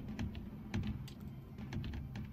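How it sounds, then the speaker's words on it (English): Quick, uneven clicking of keyboard typing from a video game, fairly close, running steadily over a low rumbling background. "what's with the devil keyboard sound?"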